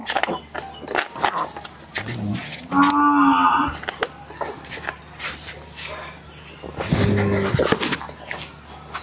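Friesian and Fleckvieh heifers moo at a cattle sale, two loud drawn-out calls a few seconds apart over a low steady hum, with shuffling and faint background voices between them.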